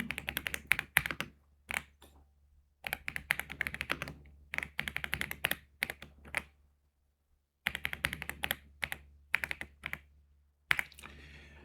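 Quick clicking keystrokes on a computer keyboard come in bursts separated by brief pauses, close and fairly quiet over a low steady hum.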